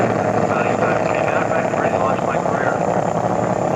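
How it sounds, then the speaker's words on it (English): The Hustler fuel dragster's engine runs at the 1994 Hot Rod Reunion in Bakersfield, California, a loud, steady, unbroken roar that fills the whole stretch without letting up. "here we go with the Hustler. He's got the engine fired"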